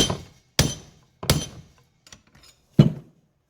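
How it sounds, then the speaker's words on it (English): Four sharp hammer blows ring out at uneven intervals as metal armor for a 2000 Toyota 4Runner SR5 is bent, with a couple of faint light taps between them, each strike decaying quickly. "get a little bit more bend right here by persuading it with my hammer, just a smidge"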